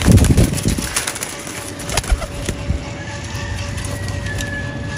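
Pigeons coo in a breeder's loft, soft, low throaty calls near the microphone over a steady background hum, with some handling thumps early on.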